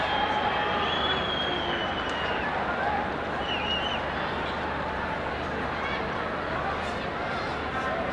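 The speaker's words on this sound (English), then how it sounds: "The crowd eagerly awaiting." Stadium crowd at a Nepal vs Myanmar women's football match: a constant, broad roar of many voices and cheers, with whistles and calls rising at moments, heard from a distance.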